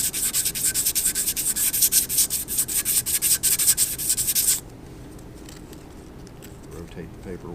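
Sanding block rubbing adhesive on a concrete surface during strain gauge installation, a steady rhythmic scrubbing of quick strokes that stops abruptly about two-thirds through, leaving quiet room noise.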